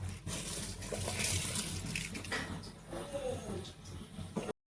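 Water poured into a cooking pot for chicken biryani, a steady close splashing and running flow for about four seconds, then abrupt silence.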